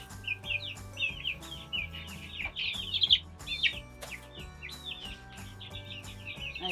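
Gold Laced Wyandotte chicks peep in a homestead brooder, a busy run of high, rising chirps overlapping one another at close range, with a low steady hum beneath.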